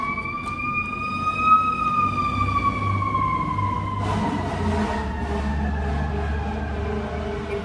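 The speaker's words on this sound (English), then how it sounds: "If you guys hear sirens in the background," Fire truck sirens wail outside in New York, a clear rising and falling tone at moderate distance over low traffic rumble, heard without any talk.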